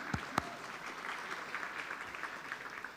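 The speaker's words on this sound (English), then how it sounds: "we can give her a round of applause too if you want to" An audience at a talk gives a short round of applause, fairly faint and steady, with a couple of louder sharp claps at the start.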